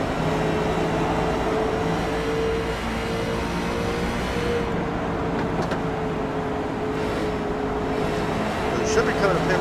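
Onboard sound from a Class A Series race car at Indianapolis Motor Speedway: a loud, steady engine drone with sustained harmonic tones runs throughout at close range, with faint background noise over it.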